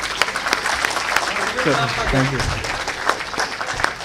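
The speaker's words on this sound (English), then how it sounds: "Can you clap for yourself, please?" Audience at the Chemcon 2022 event clapping steadily for a few seconds, with a voice speaking over the applause and some sustained tones underneath.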